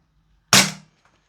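A PTS ZEV OZ9 Elite gas blowback airsoft pistol fires a single 0.3 gram BB from a Tokyo Marui magazine, one sharp, loud crack with a short hissing tail, close by in an otherwise quiet room.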